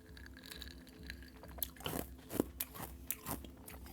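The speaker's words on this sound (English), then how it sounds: "excuse my chewing" Close chewing of food, with crunchy bites and wet squishing at an uneven rhythm over a soft background of music or room tone, no talking.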